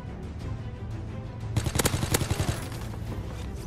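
Gunfire from Call of Duty WW2, including the Type 100, in a 1v1 match on the HQ Pit map: a rapid burst of shots about midway through, close and loud over steady background game noise, with no talking.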